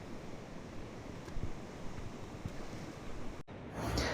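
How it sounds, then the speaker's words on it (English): Ocean waves crash against a remote wild coast below soft clay cliffs, a continuous rushing roar of surf mixed with wind buffeting the microphone, ending with a brief cut and a louder swell. "all of the waves just kept on crashing into me"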